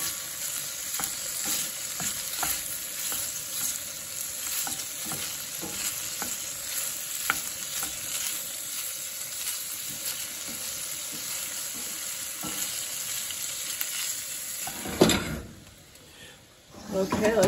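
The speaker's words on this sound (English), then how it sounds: "we'll put our kielbasa in there to get it heated up" Kielbasa sizzles in hot oil in a pot on the stove, a steady loud frying hiss with stirring clatter, a sharp louder burst near the end, and a person talking over it.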